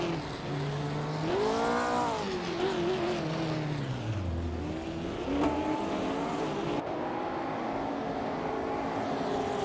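1950s sports cars racing in a racing simulator game, engines whining and rising and falling in pitch as cars pass and shift gears, a continuous loud pack of motors with no talking.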